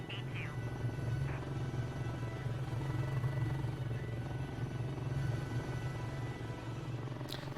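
Video game helicopter with a steady low rotor and engine drone throughout, loud and continuous, while a person talks faintly underneath.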